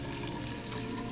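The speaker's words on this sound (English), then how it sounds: "If I turn the faucet on, maybe the water..." A faucet in the video game Fran Bow runs steadily, giving an even, hissing stream of water with no voices over it.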